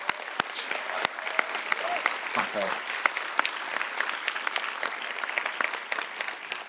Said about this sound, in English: Let's give them one last applause.